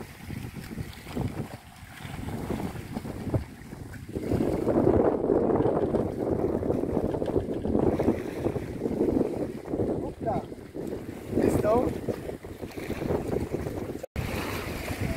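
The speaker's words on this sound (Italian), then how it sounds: "visto che si sta alzando il vento" Wind gusting over open sea while fishing for mullet from a boat, a steady broadband rush with buffeting on the microphone and lapping water, strongest in the middle stretch.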